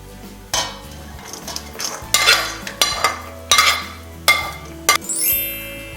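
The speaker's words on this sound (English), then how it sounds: "first we'll add the eggs. And next we'll add the celery." Egg salad prep in a home kitchen: a utensil scrapes and clinks against a bowl as chopped eggs and celery go in, with several sharp knocks and stirring scrapes spaced irregularly, close up and with no talking.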